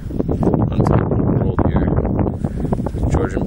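Wind buffeting the microphone on a high, exposed hilltop lookout at the highest peak in Killarney Provincial Park, a steady, loud rumbling roar throughout with people talking over it.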